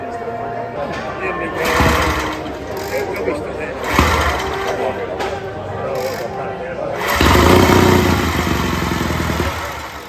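An antique motorcycle engine being started and running, an uneven throbbing putter that swells and fades, rising louder toward the end, with speech mixed in around it.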